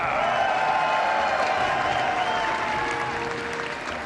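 Large arena audience at the StarCraft II WCS Global Finals applauds and cheers for the player Reynor, a dense, steady roar of clapping that holds loud throughout and eases slightly toward the end.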